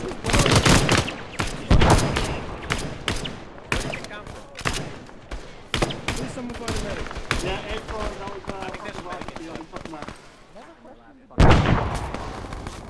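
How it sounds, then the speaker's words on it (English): Heavy gunfire and explosions from a combat operation in the video game Arma 3 pound loudly in dense volleys, easing to scattered shots before a sudden blast near the end, with voices talking over the fighting. "Shoot it, shoot it!"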